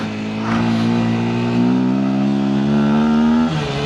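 A Daytona Dymoto 125 X motorcycle engine revs up as it accelerates, a loud close buzzing drone climbing steadily in pitch for a few seconds before easing off.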